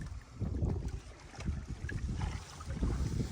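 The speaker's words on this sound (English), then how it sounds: "I don't know if you can hear me with the wind ripping" Strong wind roars and buffets the microphone in gusts on the Wisconsin River, with a low rumbling wash and faint water sounds beneath.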